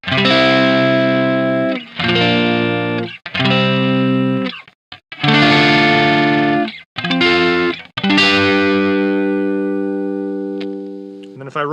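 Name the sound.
electric guitar through Rockitt Retro 50 Marshall Plexi replica amp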